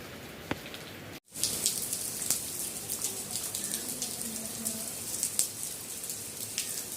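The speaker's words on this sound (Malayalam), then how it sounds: "നല്ല മഴ ഇതുകൊണ്ടൊക്കെയാണ്" Heavy rain falls steadily in a constant hiss, with scattered sharper drops tapping nearby and a brief cut of silence near the start.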